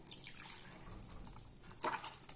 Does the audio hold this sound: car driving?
no